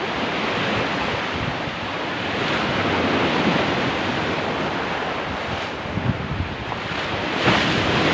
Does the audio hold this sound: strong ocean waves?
yes